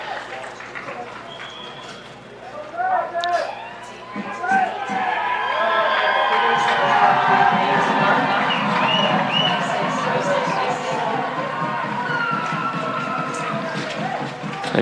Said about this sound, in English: A cheer from the Spring Arbor faithful